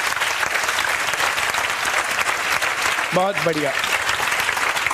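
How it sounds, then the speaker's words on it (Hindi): A room full of people applauds steadily for Sonia and her mother-in-law, dense clapping throughout, with a voice briefly speaking over it near the end. "एक बार सोनिया के लिए और उनकी सास के लिए जोरदार ताली बजाओ"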